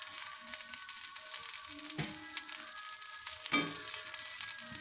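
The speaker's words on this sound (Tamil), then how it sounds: "இதை எண்ணெயில் வச்சு லைட்டாக ஒரு வதக்கு வதக்கிட்டு" Mudakathan greens sautéing in oil in a pan make a continuous soft sizzle, with a couple of sharper clinks or scrapes of a utensil stirring them, close and alone without talk.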